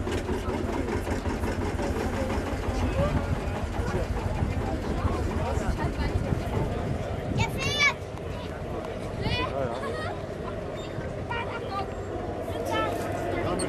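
A vintage Lanz Bulldog Acker Bulldog tractor engine runs steadily at a vintage tractor enthusiasts' meet in Rhein-Hunsrück, a continuous low throb throughout, largely covered by people talking nearby.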